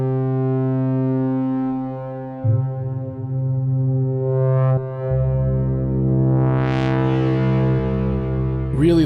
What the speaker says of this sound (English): Really lush reverb, and then delays.